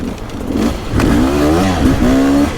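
A Beta enduro motorcycle engine revs close and loud, its pitch climbing and falling in a couple of throttle blips with a steady underlying drone; no talk.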